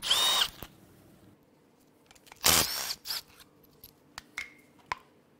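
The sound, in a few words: removing oil filter housing on Cadillac Northstar V8 engine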